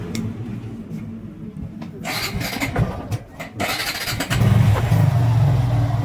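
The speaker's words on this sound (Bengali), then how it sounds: "বাইক স্টার্ট দাও।" A Suzuki Gixxer FI ABS motorcycle engine cranks and catches, settling into a steady idling rumble after a few seconds of clattering mechanical noise.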